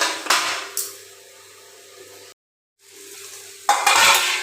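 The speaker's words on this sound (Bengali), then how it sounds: "তো বেগুনটাও লাল লাল করে ভাজা হয়ে গেছে" Eggplant fries in a pan in a home kitchen, giving a soft continuous sizzle broken by louder bursts of stirring and scraping near the start and end, plus one short silent gap.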